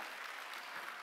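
Congregation clapping during a Sunday church sermon, a brief, even wash of applause heard faintly at a distance, with no voices over it.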